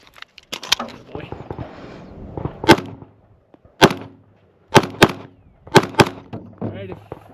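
Pistol shots from a Springfield Prodigy during a USPSA classifier stage, a run of sharp, loud single reports spaced by short gaps, some in quick pairs, with outdoor range noise and brief talk near the start.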